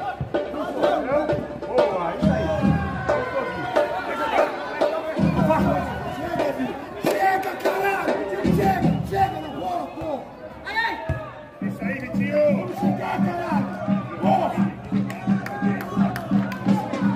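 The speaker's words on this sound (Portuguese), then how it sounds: "Levantou a torcida." Football crowd at a match between Real Madruga and Jardim Roberto, a steady murmur of chatter and cheering from the stands throughout, with an excited commentator speaking over it.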